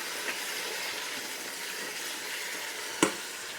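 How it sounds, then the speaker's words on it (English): Pork sautés in a hot pan, giving a steady, close sizzle and crackle of frying fat with no talking, broken near the end by one sharp clack of a utensil against the pan. "And we'll saute that for a bit."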